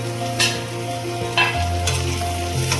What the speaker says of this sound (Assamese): এতিয়া গোটেইখিনি মই অলপ সময় ভালদৰে ভাজি ল'ম।